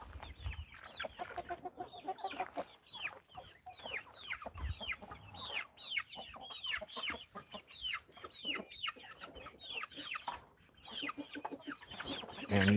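A group of hens keeps up a busy, overlapping clucking close by while they make their way into the coop for the night, no voices over it.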